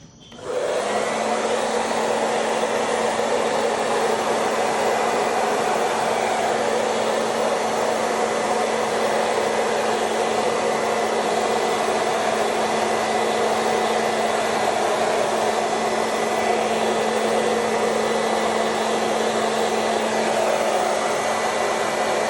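Hair dryer blowing out acrylic paint on a Dutch pour fluid-art canvas: a loud, steady, unbroken whir that runs alone for over twenty seconds.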